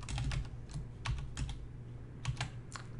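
Keys pressed on a TI-Nspire CX CAS graphing calculator, a quick run of close, crisp plastic clicks in small irregular bursts with brief gaps between them.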